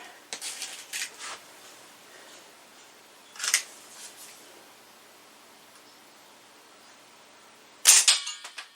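Diana Chaser .177 air gun fired through a chronograph: a few sharp, close cracks spaced several seconds apart, each followed by brief clatter, over near silence with no talking.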